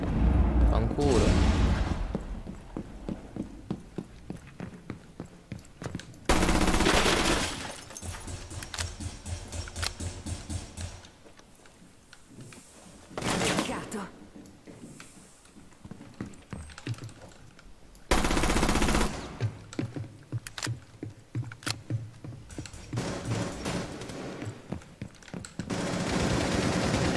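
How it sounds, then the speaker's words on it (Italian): Rapid gunfire in a Rainbow Six Siege match, repeated bursts of shots with loud heavy volleys and quieter gaps between them, while someone talks over much of it. "non ho detto da dove cazzo stanno arrivando sti colpi"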